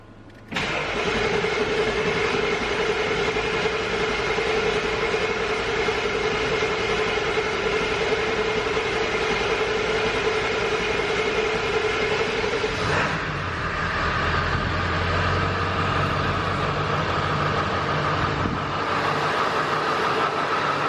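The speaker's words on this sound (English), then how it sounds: "These trucks have to crank for a while before they will build oil pressure back up." A 7.3 Powerstroke diesel truck engine cranking at length with a new high-pressure oil pump, a loud continuous starter whir and engine churn that shifts in pitch partway through and keeps going.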